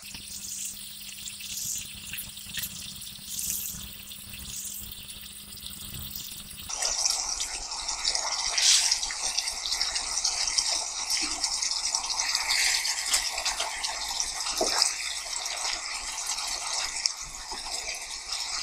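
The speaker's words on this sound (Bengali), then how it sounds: "এখন আমি একে একে ভেজে রাখা মাছগুলো দিয়ে দিব।" Pre-fried fish pieces go one by one into a cooking pan, setting off a sudden burst of steady crackling sizzle that continues loudly after a quieter stretch, with no talking.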